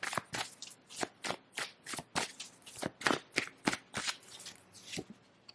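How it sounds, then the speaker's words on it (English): A deck of oracle cards is shuffled close by in a series of quick, crisp riffling bursts that repeat in a steady rhythm, soft in level with no talking. "So let's pull a few oracle cards for your person."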